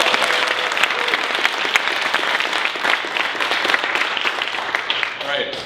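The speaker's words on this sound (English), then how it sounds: "please just a big round of applause for Anna and the team" A keynote audience at a tech conference bursts into dense, sustained applause, loud and close, with crowd murmur mixed into the clapping throughout.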